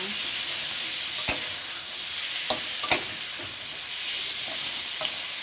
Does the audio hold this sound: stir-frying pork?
yes